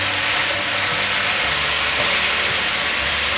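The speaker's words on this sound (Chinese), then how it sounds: "放入芋头，快速翻炒， 让芋头吸饱酱汁" Taro chunks sizzle and hiss steadily as they are stir-fried in sauce in a hot wok, with a loud, continuous frying noise and faint scraping underneath.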